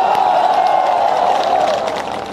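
A large crowd applauding and cheering at a political rally in Madhya Pradesh addressed by Punjab Chief Minister Bhagwant Mann, forming a loud, dense, continuous roar that eases slightly toward the end.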